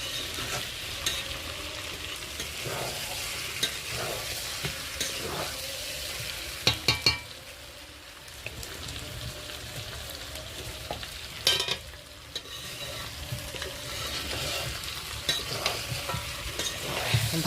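Mutton and fried potato pieces frying in a pan over a wood fire, with steady sizzling broken by scraping stirs and a few sharp clanks of the spatula against the metal, close and without talk.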